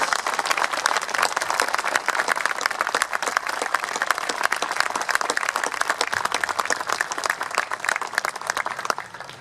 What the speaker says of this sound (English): One more round of applause for all of them, please.